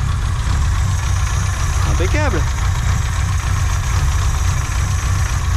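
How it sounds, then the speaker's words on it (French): The engine of a Volkswagen Samba idles with a steady, low, even rumble that carries through the whole stretch, while a voice briefly speaks over it partway through. "Ah, j'entends le moteur"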